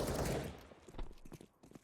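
Gunfire in the video game Counter-Strike on the de_nuke map, a quick burst of shots followed by a few scattered fainter pops, quiet and somewhat distant over about two seconds.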